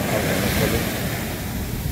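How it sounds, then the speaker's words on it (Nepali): Ocean waves surging up onto a beach at sunrise, a continuous broad wash of surf with wind rushing across the microphone, no voices. "हेर्नुहोस् न कस्तो दामी उठेर आउँछ छाल।"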